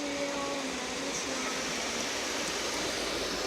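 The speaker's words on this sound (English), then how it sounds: "look, it's throwing some water at us." Automatic car wash spraying water onto a car, a dense, steady hiss of rushing spray from close by, constant throughout with no talk.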